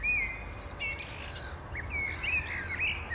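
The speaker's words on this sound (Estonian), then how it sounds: "Kevade, roheluse ja päikese saabumisel jõuab linnaga pea kõrvu lukustav linnulaul." Spring birdsong fills the city of Tallinn: several birds chirp and trill close by in quick, overlapping phrases over a low steady urban hum.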